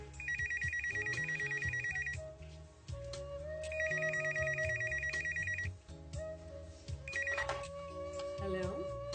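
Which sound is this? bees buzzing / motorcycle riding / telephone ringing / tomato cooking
telephone ringing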